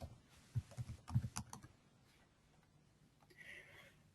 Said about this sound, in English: the way you can go ahead and find that information is by typing into the search box.